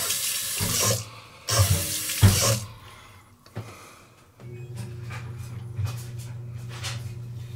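Tap water runs into a sink while a Vikings Blade safety razor is rinsed, opening with a few loud splashing bursts and then settling into a steady, moderate stream under light clinking.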